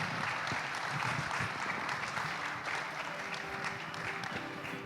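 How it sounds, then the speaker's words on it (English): An audience at a panel session applauds the panelists in a sustained, even round of many hands clapping, heard from a distance in a large hall, with a faint murmur of the crowd beneath. "please give a warm round of applause to our panelists."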